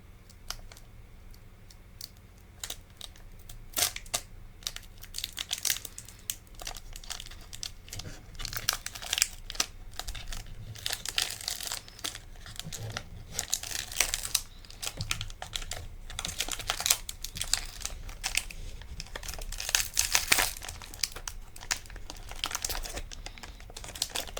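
Paper wrapper of a Pokemon card pack crinkles and tears open close by, a steady run of crisp rustling and crackling with no talking.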